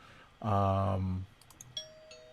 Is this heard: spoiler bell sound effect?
yes